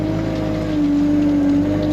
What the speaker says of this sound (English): JCB rattle is really doing my head in now